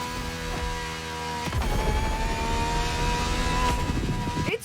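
An Aston Martin Vulcan fitted with a turbo and a swapped exhaust in the racing game Motorfest gives a steady, droning engine note with a faint whir, holding at a moderate level for a few seconds without any talk.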